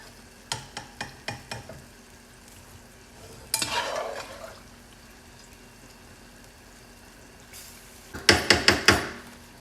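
Pasta is stirred into a garlic sauce in a pan with short scraping, clattering strokes, a quick run of taps early on and bursts of louder stirring later, close up with no voices.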